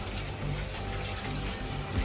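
Water pours into a large pot of Adirai-style biryani, a continuous rushing, gushing splash that stays close and fairly loud for a couple of seconds, with no talking.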